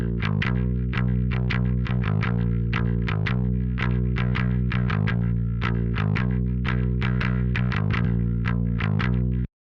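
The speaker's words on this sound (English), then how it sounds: "So I'm using my Ibanez Musician bass with the P pickup, and I've of course got BOD on there" Ibanez Musician bass on its P pickup through a BOD overdrive pedal, playing a steady, evenly picked riff of repeated distorted low notes, loud and close, with no talking, ending abruptly.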